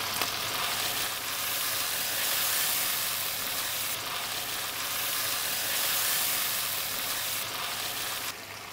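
Tomatoes frying in a hot pan, a loud steady sizzle with stirring scrapes that continue throughout before easing slightly at the end.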